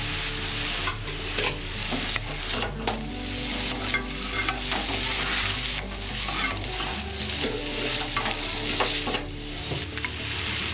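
Mixed fried rice with meat, shrimp and scrambled egg is stir-fried in a hot pan, a constant loud sizzle broken by repeated scraping and tossing strokes of the spatula, with a low steady hum beneath and no talking.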